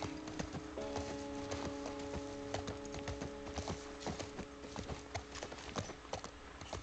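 Horse hooves clip-clop steadily and close by in The Last of Us Part I, a busy, even rhythm of hoof strikes running throughout with a faint background hum.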